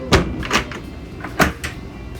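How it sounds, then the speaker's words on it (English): Stainless steel pantry drawers on a Hylas H60 yacht slide open in a few quick clunks and rattles, close and fairly loud, with quieter handling noise between. "And then we have multiple pantry drawers here."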